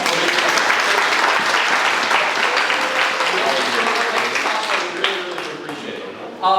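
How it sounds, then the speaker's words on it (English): Concert audience at a youth symphony orchestra performance applauding the parents, full, even clapping that gradually thins toward the end with a sharp burst at the close. "So parents, give yourselves a round of applause."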